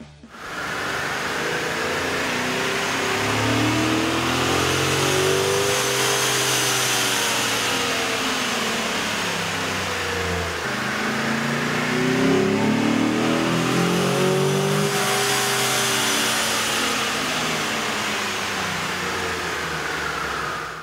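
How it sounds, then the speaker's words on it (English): A 2010-2012 Chevy Silverado or GMC Sierra 2500/3500 pickup engine revs hard and steadily under load on a dyno, its pitch sweeping up and falling back in long repeated cycles, loud and close with no talking. "the sound of the truck on the dyno with the stock OEM system versus AEM's air intake"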